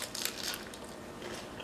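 Someone bites into a ground beef lettuce wrap with water chestnuts and red bell peppers, making a few crisp, close crunches that trail off into quieter chewing.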